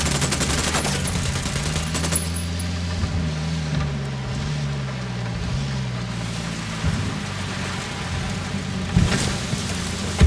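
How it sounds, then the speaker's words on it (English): Gunfire in Ghost Recon Wildlands mixed with a rumbling vehicle engine, scattered shots and bursts over a continuous low drone and rain-like hiss, with a louder crack near the end. "I'm opening fire."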